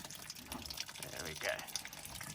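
Water from an undone boiler condensate trap, backed up from the heat exchanger, dribbles and splashes into a bucket, a steady close trickle with a voice speaking over it.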